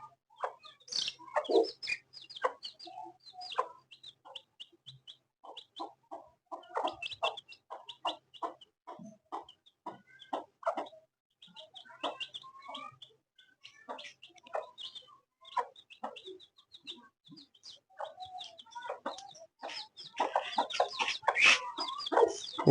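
A hen roaming with her chicks clucks in short repeated bursts, with thin peeping from the chicks and other farmyard fowl, close by, growing busier and louder toward the end.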